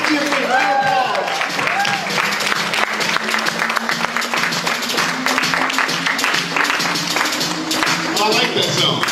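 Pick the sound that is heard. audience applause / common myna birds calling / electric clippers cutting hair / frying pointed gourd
audience applause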